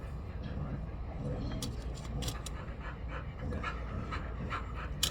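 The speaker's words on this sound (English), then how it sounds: "Sorry, that's one of my dogs." A dog pants and whimpers close by, giving a steady breathy rhythm with a few thin whines, in a jewelry repair workspace.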